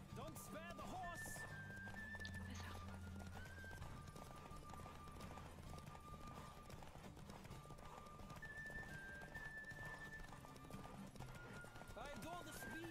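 Rhythmic clip-clop of galloping horse hooves in The Witcher 3: Wild Hunt runs steadily throughout, mixed with game music tones and a voice talking over it.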